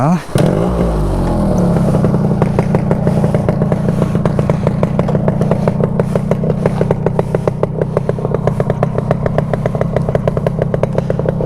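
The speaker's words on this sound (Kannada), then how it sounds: "ನೋಡಿ ಒಂದೇ ಕಿಕ್ಕಿಗೆ ಹೆಂಗೆ ಸ್ಟಾರ್ಟ್ ಆಗುತ್ತೆ ಅಂತ" A restored Yamaha RX135 motorcycle kick-started and left running, a single kick followed by a loud, close two-stroke idle that putters steadily and unevenly with rapid firing pulses.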